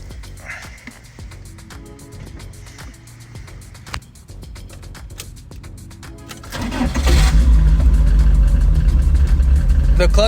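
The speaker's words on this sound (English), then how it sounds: "Yeah, guys, we're gonna start the car real quick." A Toyota AE86 sits quietly while people talk, then its engine cranks and catches near the end, settling into a loud, close, rising roar of revving.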